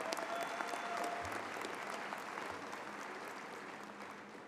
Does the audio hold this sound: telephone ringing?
no